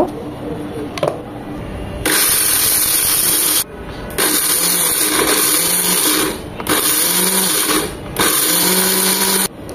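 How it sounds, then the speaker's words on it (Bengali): Blender grinding whole spices for shahi garam masala, running in four loud bursts of a few seconds each, separated by short pauses, with no talk over it. "সব একসাথে দেব না, অল্প অল্প করে দেব যেন খুব স্মুথলি ব্লেন্ড হয়ে যায়। দুই থেকে তিনবারে ব্লেন্ড করে নেব।"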